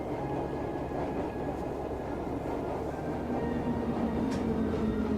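A train running in the game Trails of Cold Steel, a steady rumbling ride with faint tonal hums and a light clatter, continuous and fairly close, no voices over it.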